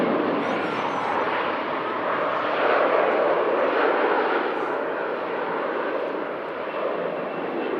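An airliner departs Manchester Airport with a broad, steady engine roar, loud and continuous, with no talk.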